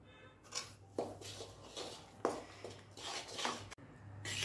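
Spice masala being stirred into roasted poha chivda in a hot kadhai, with scattered close scraping and clinking strokes of a spoon against the pan and a low hum running underneath.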